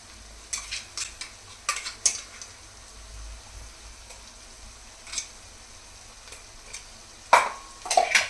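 Ginger-garlic paste with turmeric frying in a pan while a spoon stirs it, producing scraping clinks and scattered taps over a low sizzle, with a louder clatter near the end.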